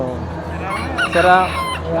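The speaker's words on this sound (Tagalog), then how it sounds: "Champion na manok." A rooster crows once, mid-length and fairly close, its call rising and falling over a steady background murmur.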